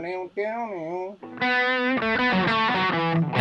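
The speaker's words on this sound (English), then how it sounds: "we got the reverb on, Alex." Electric guitar licks in F major with reverb switched on, sustained distorted notes ringing out in a steady phrase after a brief opening passage, close and loud throughout.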